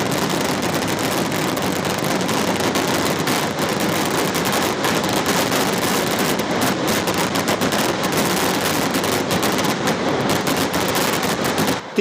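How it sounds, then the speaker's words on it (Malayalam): Pre-dawn temple festival fireworks for Thiruvambadi, with palm-leaf firecrackers, bombs and ground flashes building into a fiery finale: a loud, unbroken barrage of dense crackling bursts and booms fills the whole stretch with no talk. "ഓലപ്പടക്കത്തിൽ കൊളുത്തിയ തീ പടർന്ന് ഗുണ്ട്, കുഴിമിന്നൽ, നിലാമിട്ട് എന്നിങ്ങനെ കത്തിക്കയറി അഗ്നിഗോളമായി കൂട്ടപ്പൊരിച്ചിലിൽ അവസാനിച്ചു."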